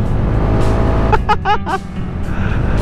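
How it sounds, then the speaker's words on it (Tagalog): A car's low engine rumble on a dark mountain road before dawn, steady and close throughout, with brief voices speaking over the middle. "Kaso may kotse sa likod"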